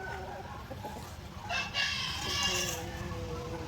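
A Brazilian Shamo hen on a farm gives a short burst of clucking and fowl calls, with someone speaking nearby and children's voices in the background.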